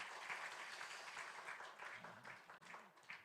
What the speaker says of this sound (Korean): 위로해 주시고 격려의 박수를 한번 보내주시기 바랍니다